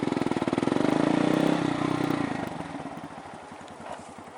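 A manual motorcycle pulls away as the clutch lever is released and the throttle opened, its engine thumping loudly up close, rising briefly and then settling into a slower, fading pulsing chug.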